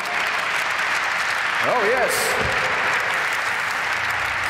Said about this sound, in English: Ladies and gentlemen, a round of applause for the main man.